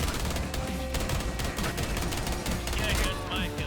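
Ela's fast-firing 50-round gun in the Rainbow Six Siege video game lets off a rapid burst of automatic gunfire, dense and continuous for several seconds, with game sounds in the mix.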